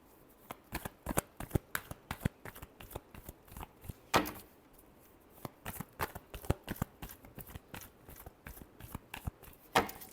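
Tarot cards are shuffled by hand in quick, crisp riffling bursts, close and fairly quiet, with brief pauses between flurries.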